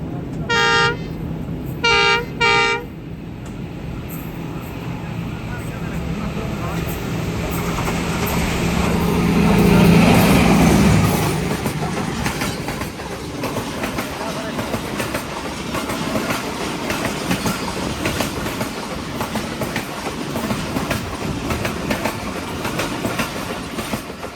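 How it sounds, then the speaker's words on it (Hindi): A Pakistan Railway train arrives and passes, opening with several loud horn blasts, then swelling into a heavy rumble and rhythmic clickety-clack of wheels that continues steadily as the cars roll by close at hand. "तो ये आ गई है सामने से ट्रेन"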